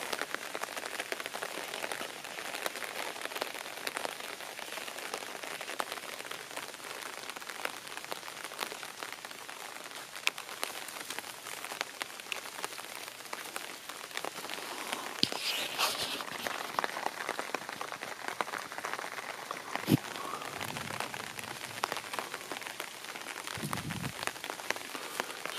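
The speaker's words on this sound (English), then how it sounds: "So I'm getting a little bit of rain here." Light rain sprinkling over a Deep South winter garden, a soft, even patter of drops on surfaces that holds steady throughout, with a couple of faint knocks near the end.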